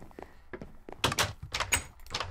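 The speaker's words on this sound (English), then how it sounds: "Door." A door opening in Minecraft, a series of close knocks and thunks with a louder wooden clatter near the middle, over quiet background.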